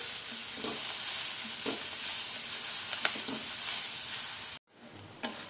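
Onions sautéing in a pan for a South Indian crispy dosa potato filling, sizzling and hissing steadily close by with occasional stirring scrapes, before the sizzle briefly cuts out and resumes.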